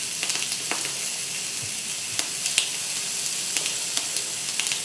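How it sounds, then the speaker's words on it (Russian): Chicken wings fry in a pan with a steady, bright sizzle and scattered sharp pops and crackles. The sound is close and continuous with no talk. "Крылышки лучше жарить отдельно, потому что они жарятся дольше."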